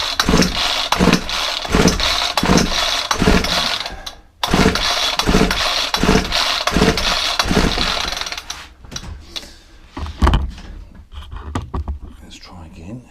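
Ryobi 4-stroke string trimmer on choke, pulled repeatedly to start: a steady train of rhythmic cranking pulses for about eight seconds, a brief gap, then irregular sputtering knocks and clatter, close and loud.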